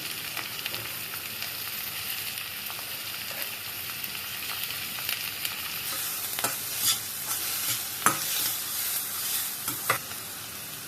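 Finely chopped onion and green chilli stir-fry in a pan for a street-style cabbage Manchurian, with a soft continuous sizzle and scattered sharp spatula scrapes and clicks growing busier toward the end, no speech.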